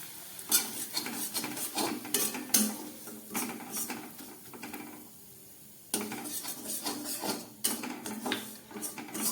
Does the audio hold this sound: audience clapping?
no